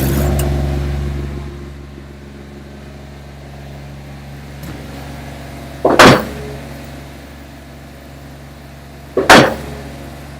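An IMER equipment engine turns over with two short, loud bursts a few seconds apart, set against a steady low hum.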